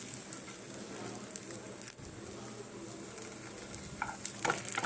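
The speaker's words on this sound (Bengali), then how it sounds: "ঘি দিচ্ছি" Ghee sizzles steadily in a pan while patishapta is being made, a soft continuous frying hiss with faint stirring and a few light utensil clinks near the end.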